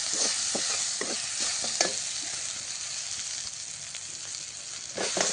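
Drumstick pods and masala being stirred in a sizzling pan in a village kitchen: a constant frying hiss runs underneath a series of quick scraping stirs early on, then a quieter stretch, then more scrapes at the end.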